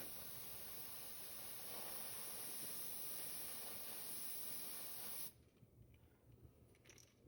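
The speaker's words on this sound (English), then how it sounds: "kind of hold back more so it's more of a broader spray, and just kind of just lightly mist the sides on" Steady hiss of an airbrush misting metallic purple paint onto the sides of a custom bluegill fishing lure, continuous and close for about five seconds, then cutting off to near silence.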